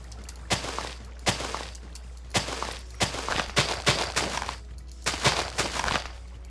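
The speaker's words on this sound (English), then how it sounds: "This might be the biggest f***ing explosion ever." Explosions in a Minecraft-style video game set in a village: a series of sharp blasts and cracks at irregular intervals, some in quick clusters, moderately loud with no talking.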